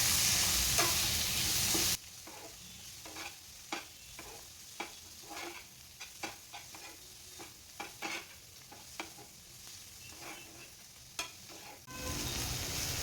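Small creek prawns are stirred into a thick masala in a pan, with a steady low sizzle and repeated soft scraping clicks of the spoon at an uneven rhythm, close and clear, no talking.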